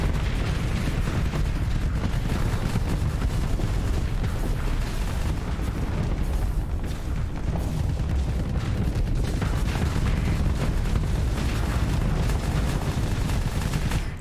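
Flak cannons in the space combat game Starsector fire nonstop at incoming missiles, giving a dense, loud, continuous barrage of rapid bursts and booms with no talk over it.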